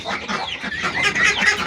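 Village ducks and chickens are let outdoors, a busy overlapping chatter of clucks and quacks from several birds that continues steadily close by, with no talking.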